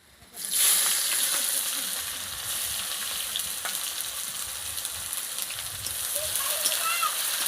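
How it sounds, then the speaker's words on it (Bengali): Chopped onions sizzle and crackle loudly in a hot pan as they are added for a country-style chicken dish, with a continuous bright frying hiss from start to finish and faint background sounds. "পেঁয়াজ যে কাটা ছিল সেগুলো দিচ্ছি"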